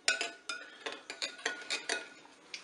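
A carrot and potato gratin mixture being stirred in a bowl, a steady run of about a dozen close, wet scraping strokes at an even rhythm with no talking.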